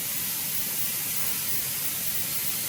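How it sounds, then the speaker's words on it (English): A pressure canner vents a steady stream of steam while soup is being canned, giving a continuous, even hiss that stays loud and unbroken with no talk. "She got a steady stream of steam, see?"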